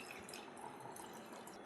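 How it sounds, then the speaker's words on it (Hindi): Water is strained through a sieve into a pot, giving a continuous, even trickling and splashing that stays close and fairly quiet throughout. "अब हम लेंगे एक बर्तन, और इस बर्तन में हम इस पानी को छान लेंगे।"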